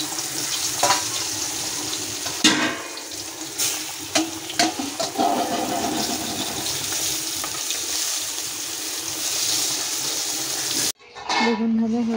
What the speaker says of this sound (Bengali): এখন আমি বেগুনগুলো ভেজে নিচ্ছি।